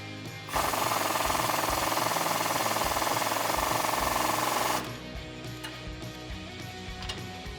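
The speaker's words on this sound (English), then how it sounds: "you'll spin the nut on using a 16mm deep socket" An impact gun spins a nut onto a sway bar end link stud with a 16mm deep socket on a 2WD RAM 1500 front suspension, a loud close rattling burst of about four seconds that then cuts off.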